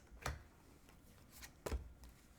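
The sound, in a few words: cutting and shuffling a deck of Osho Zen Tarot cards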